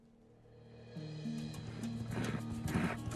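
A horse whinnies softly, then the sound of hooves moving comes through, building in loudness toward the end.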